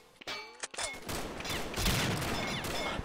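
Gunfire in a video game, with rapid shots and a dense burst of fire that builds through the middle and stays loud, close and busy until the end.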